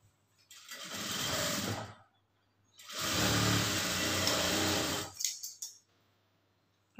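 A sewing machine stitching a blouse hem runs in two long bursts, the second longer, with a short stop between and a few quick stutters at the end.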